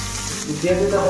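Onion and panch phoron, a five-spice seed mix, crackle and sizzle in hot oil for a Odia-style snake gourd curry, a brief, close, loud frying burst that swells as the onion lands.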